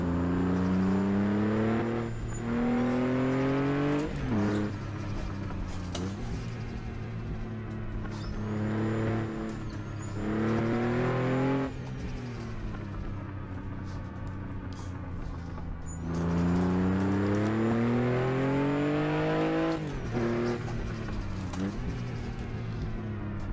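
A Porsche 911 engine revs and shifts through gears on curvy mountain roads, rising in pitch with each acceleration and dropping between shifts, loud and close throughout with no talking.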